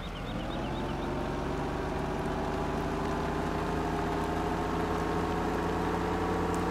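Tractor or truck engine in Farming Simulator 17 running steadily and climbing slightly in pitch, a continuous mid-loud drone with layered harmonic hum, no voices.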